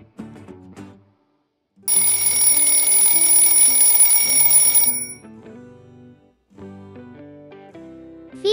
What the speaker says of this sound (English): Feature helps kids wake up on time with a loud ring.